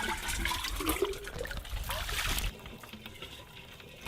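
Water from a lake trickles and gurgles into a big water container close by for a few seconds, then drops to a quieter dribble.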